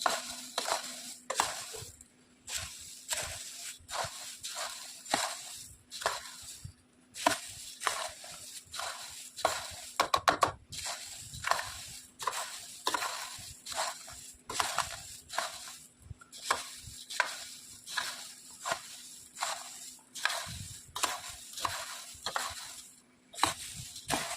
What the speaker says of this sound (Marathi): तर मी फोडणी घातलेली हलवून घेते.